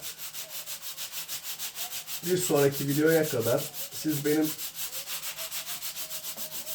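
Sandpaper rubs rhythmically over the puttied hull of a wooden ship model, steady even strokes at close range, with a person briefly speaking midway.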